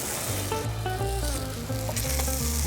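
Food sizzles steadily in a hot pan as a pancake-like round of batter cooks after being flipped, a continuous close frying hiss with no voices over it.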